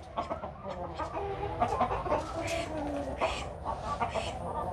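Chickens cluck in a dirt-floored coop, several birds calling in irregular bursts close by, with a steady background hum.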